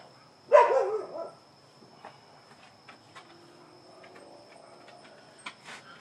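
A dog barks loudly in a short burst near the start, then only faint scattered yips and a thin steady insect-like whine over a quiet evening background.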